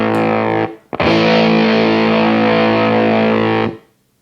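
A guitar chord through a Walrus Audio Jupiter v2 fuzz pedal rings out loud and thick with distorted harmonics. A brief cut and re-strike are followed by about three seconds of sustain before it is muted.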